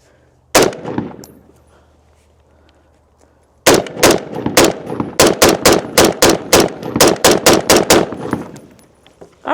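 A CMMG Dissent MK3 .308 rifle fires outdoors: one sharp loud shot, a pause, then a rapid string of about fifteen sharp cracks at a steady pace, each with a brief ringing decay.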